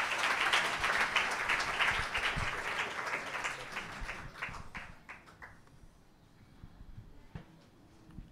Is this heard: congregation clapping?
yes